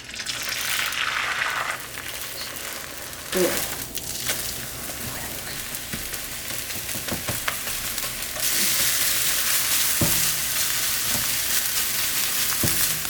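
Egg whites frying in a pan for fried rice, a steady loud sizzle that runs throughout, with occasional soft scrapes and clicks of stirring and a brighter hiss near the end.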